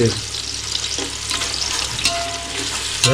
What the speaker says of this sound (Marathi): एवढे सर्व गरम मसाले घेतलेले हे सर्व जाऊ दे तेलामध्ये